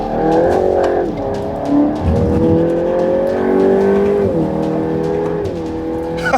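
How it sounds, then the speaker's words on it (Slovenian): A petrol GTI Edition 50 brakes hard from over 200 km/h on a fast circuit, its loud engine note dropping through rapid downshifts with a brief tyre squeal amid steady roaring. "Zdaj pa močno zaviranje."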